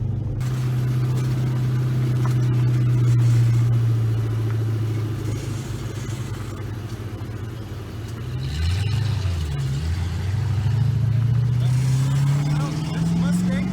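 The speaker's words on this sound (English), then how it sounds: "This Mustang pulls it." Ford Mustang engine at a car meet, a loud low droning rumble that dips, then revs up and climbs steadily in pitch as the car pulls away, with people talking over it.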